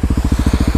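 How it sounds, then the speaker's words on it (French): Husqvarna 701 2020 supermoto single-cylinder engine pulling wheelies, a loud, steady rapid pulsing of engine firing beats that repeat evenly throughout. "c'est mes derniers wheelings là au guidon du 701"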